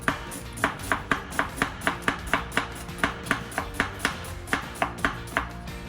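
A sharp kitchen knife slices an onion on a cutting board in a steady run of roughly twenty quick, evenly spaced chops, close and distinct.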